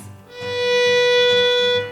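A single sustained violin note held steady without any wobble, bright and close, swelling in after a brief quiet start and fading at the end.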